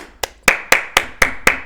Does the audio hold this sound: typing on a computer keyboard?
no